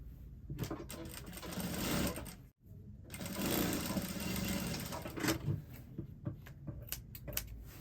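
A sewing machine stitches the side seam of a two-layer dress with a pencil skirt, whirring steadily up close in two long runs split by a brief stop, then breaking into shorter stop-start bursts.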